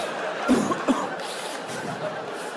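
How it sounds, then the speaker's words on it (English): A few short coughs, faint and close, with soft background murmur. "Just coughing."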